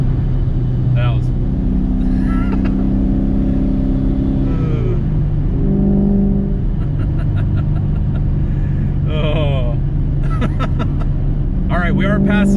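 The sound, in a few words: supercharged Chevrolet Camaro engine accelerating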